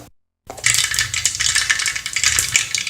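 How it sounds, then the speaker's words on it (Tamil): Mustard seeds spluttering in hot oil inside a pressure cooker, a dense burst of rapid crackling pops starting abruptly after a short silence and continuing loudly throughout. "கடுகு பொரிஞ்சது"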